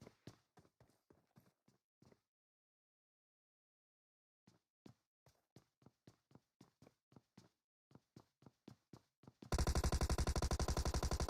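Rapid footsteps in PUBG Mobile thud in quick runs, then pause for a couple of seconds, then resume in uneven bursts. They end abruptly in a loud, dense burst of automatic gunfire.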